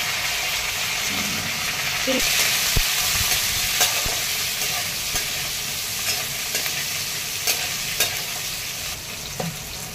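Curry leaves, bay leaf, green chili and ginger crackle and sizzle in hot oil with garlic for Marathi varan tempering, a steady close hiss with occasional sharper pops and stirring clinks throughout.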